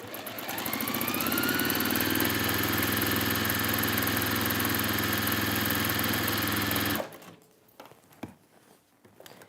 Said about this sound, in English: I sew along the bottom just for turning through purposes.